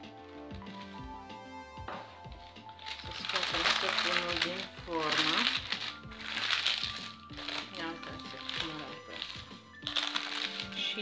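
A homemade cold-process thyme soap bar is pulled from its plastic bag and mold: loud, close crinkling and rustling of plastic in repeated bursts, with a person talking throughout.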